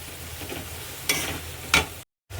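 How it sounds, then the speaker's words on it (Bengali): Fish curry with potatoes stirred and sautéed in a pan, a steady low sizzle broken by two louder scraping sweeps of the spoon, then a brief dropout before the sizzling resumes. "ঢেলে আমি এটাকে এবার আলু টালু দিয়ে সব কিছু যে ছিল এটাকে একটু নাড়িয়ে নেব।"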